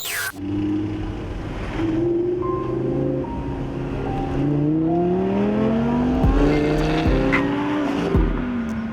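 An Audi R8 with a 5.2 litre V10 shared with Lamborghini being driven: a steady engine drone with rising and falling pitch as it accelerates through the gears, with a few brief road thumps.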